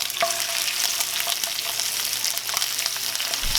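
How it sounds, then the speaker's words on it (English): Chicken pieces frying in a pan over medium-high heat, rendering fat. A steady, close crackling sizzle runs throughout with small spatters and a brief clatter near the end, and no talking. "We're gonna drop these into a medium-high pan."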